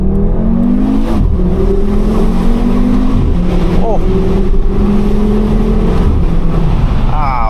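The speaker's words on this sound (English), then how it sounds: "You get that deep bellowing growl of the 5-cylinder." A 2014 Audi RSQ3 with a 310 hp five-cylinder engine growls loud and close while driving, its tone climbing and dropping through repeated gear changes, with a brief exclamation from someone inside.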